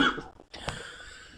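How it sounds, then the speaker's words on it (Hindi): A single short, close cough bursts out once amid soft breathing, with no talking. "यार ये खांसी ठीक ही नहीं हो रहा है इतना दिन से"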